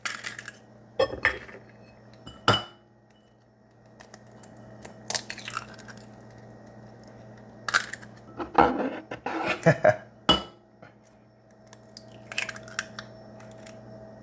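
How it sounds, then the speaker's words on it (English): Large brown eggs being cracked into a mixing bowl for cornbread batter, with several sharp taps and clicks of shell against the bowl's rim, spaced out across a quiet kitchen, each one followed by faint wet sounds. "we're gonna add 3 large brown eggs"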